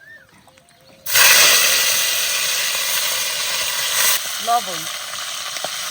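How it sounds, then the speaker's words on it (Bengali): Fish oil hits a hot pan with mustard oil and cumin for frying eggplant and green tomato, bursting into a loud, close, steady hiss that eases slightly over several seconds, with someone speaking briefly before and near the end. "এবার মাছের তেল দিয়ে কাঁচা টমেটোর বেগুন দিয়ে একটু ভেজে নিই।"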